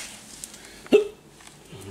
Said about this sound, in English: Damn hiccups.